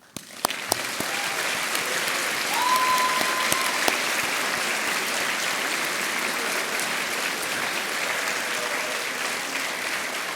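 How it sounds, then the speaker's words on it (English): A graduation audience at the University of South Wales breaks into sustained applause, a dense, even wash of many hands clapping that holds steady for the whole stretch, with a few nearer claps standing out. "I want to give you the chance to clap and thank everyone who has worked so hard to enable you to achieve your potential today"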